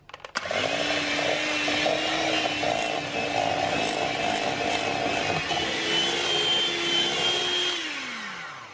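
Electric mixer whisking a cream cheese fruit dip with vanilla, a loud steady motor whir running nearly nine seconds with a scraping rattle and a slight pitch shift before winding down.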